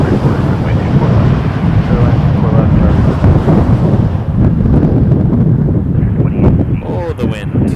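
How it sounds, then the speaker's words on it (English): Strong outdoor wind buffets a microphone at a plane-spotting spot by Toronto Pearson Airport, a loud, steady roar running through the whole clip. "Oh, the wind."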